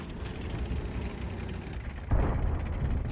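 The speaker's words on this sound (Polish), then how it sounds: "Pierwszy strzał w ziemię, drugi strzał już lepszy" Tank cannon fire in the World of Tanks video game: one heavy, booming shot erupts partway through over a constant rumbling battle ambience, then its roar fades slowly.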